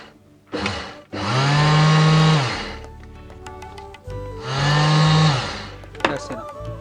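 An electric kitchen grinder whizzes poppy seeds and coconut in two loud, steady bursts of about two seconds each, with brief quieter pauses and clatter between runs.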